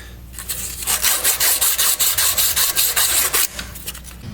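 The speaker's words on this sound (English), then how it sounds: "I take a little bit of sandpaper and touch up that rust in there." Sandpaper rubs rust off the control arm of a Crown Victoria or Grand Marquis. It makes close, loud, rapid back-and-forth scratching strokes in an even rhythm, about a dozen passes, then stops.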